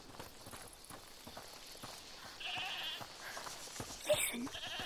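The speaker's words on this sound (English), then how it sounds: "Listen. Is that the goat you talked about?" A goat bleats in the video game A Plague Tale: Requiem, a short wavering call at mid-distance amid soft footsteps and ambient game sound, with a brief sharper noise near the end.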